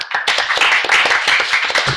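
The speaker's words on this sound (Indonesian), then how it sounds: "tepuk tangan lu" An audience in Bali claps in a quick burst, a loud, close flurry of individual sharp hand claps overlapping irregularly for a couple of seconds.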